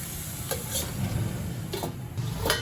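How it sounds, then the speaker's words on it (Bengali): Cabbage cooking under a lid in a pan over a low flame, giving a steady, soft sizzle with a few faint clinks, close and alone. "এবার লো ফ্লেমে বাঁধাকপিটা আমি ঢাকা দিয়ে একটু মজিয়ে নেব"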